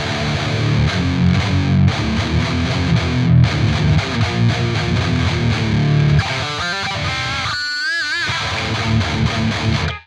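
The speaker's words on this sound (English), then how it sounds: "That's a really, really gnarly tone. That's on amp 2. It's got the distortion on" A heavily distorted electric guitar played through the Neural DSP Archetype Gojira plugin on amp 2 chugs loud and dense, then breaks into bending, squealing harmonic notes near the end, with no voices.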